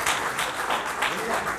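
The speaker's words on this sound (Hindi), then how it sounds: "एक बार जोरदार तालियां बजवाना चाहूँगा आपके हाथ" An audience at a national conference of a social organisation in India breaks into brief, dense clapping that continues under the speaker's voice.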